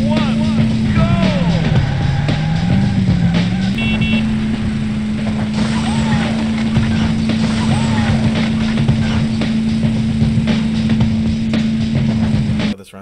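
Adventure Racing running on a RecalBox emulator, with a steady droning engine tone and shifting pitch under continuous game music and effects, loud and unbroken until an abrupt cut at the end.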